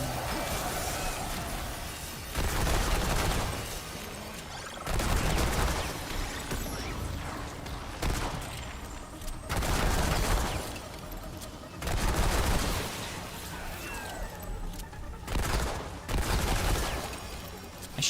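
Handgun fire in the game Remnant 2, heavy booming shots in spaced bursts roughly every two to three seconds, loud and close over a busy game background.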